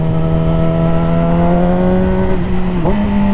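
A motorcycle engine hums steadily during a morning ride, its drone loud and constant before dipping briefly and rising again, with no talking.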